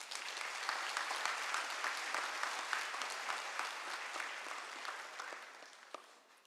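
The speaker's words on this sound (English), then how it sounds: "Let's give them a round of applause for their invaluable contributions." Steady applause from the audience at a university graduation congregation, dense clapping heard from a distance and tapering off slightly toward the end, with no talk over it.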